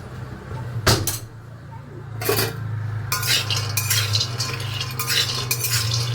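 A spoon stirs milk in a metal pot in brief, bright scraping and clinking bursts, near and fairly loud, over a steady low hum, with pauses between strokes and no talking.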